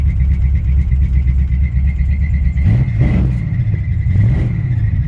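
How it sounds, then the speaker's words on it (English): A 1953 Chevy truck engine runs steadily with a thin, sustained high-pitched belt squeal riding over its low rumble, the engine note rising and falling briefly as it revs. "A little bit of a squeal out of one of the belts"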